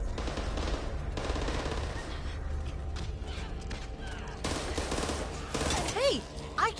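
Gunfire from the Back 4 Blood video game, bursts of shots over a dense game mix with steady low rumble, some louder crackling volleys near the end.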